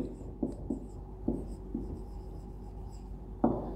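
A teacher draws a box's top view on a board: short scraping strokes separated by pauses, close and moderately loud, with no voices.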